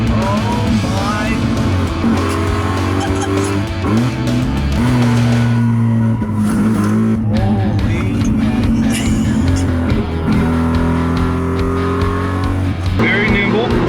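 A sports car accelerates hard out of a turn on a track. The engine roars loud and close, rising and dropping through the gears, with brief tire noise. A person talks over it now and then.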